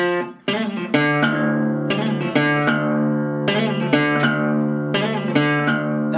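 A short blues guitar lick of six plucked notes rings out clearly on its own, repeated, with notes sustaining and overlapping.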